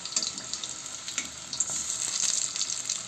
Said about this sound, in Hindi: इसको पलट के अच्छे तरीके से फ्राई करेंगे